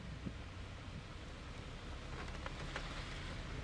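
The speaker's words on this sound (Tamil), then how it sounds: "எல்லோ அலர்ட்டுக்கே பாருங்க மழை எப்படி தட்டுதுன்னு" Heavy monsoon rain falls steadily in the Kabini forest, a dense, even hiss with faint scattered patter and no voices.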